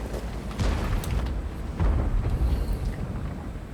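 Tank cannon firing in World of Tanks, a heavy booming blast followed by rolling rumble, then a second deep boom about a second later, with no talking.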